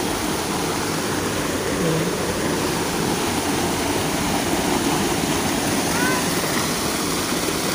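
Swirling water at a dam in a forest, a loud, steady broadband rush like a churning stream, continuous and close throughout with no break.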